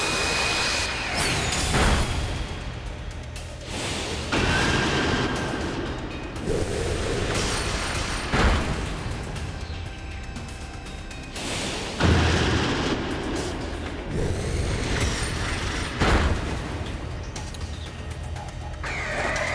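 Repeated heavy crashing blasts from the Flash Cannon attack in Pokémon Legends: Arceus, booming impacts and mechanical clatter, loud and dense, arriving in bursts every few seconds with no talking.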